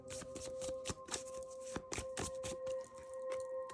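Tarot cards being shuffled by hand for a reading, a quiet, close flurry of soft riffling and slapping card sounds with uneven bursts and no talking.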